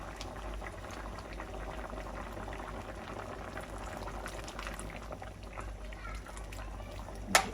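A tamarind fish curry with tomato boils in a pot, giving a steady close bubbling simmer that holds through the whole stretch, with one brief clatter near the end.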